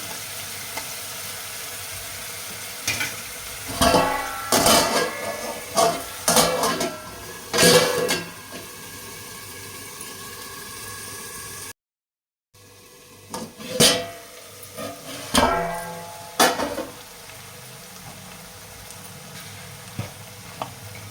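Onions and ginger paste fry in a covered pan for a Telugu goat tripe curry. A low sizzle runs throughout, broken by clattering bursts of utensil and pan contact, with a brief silent gap midway.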